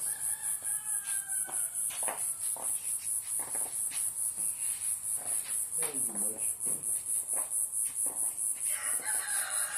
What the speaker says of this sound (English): But that's what you hear in the background. Them roosters.